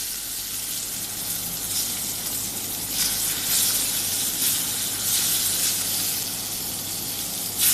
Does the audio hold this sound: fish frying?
yes